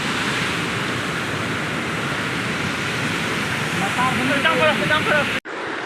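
Waves churn in a canal as a steady, broad wash of rushing water, with a voice rising over it near the end just before an abrupt cut.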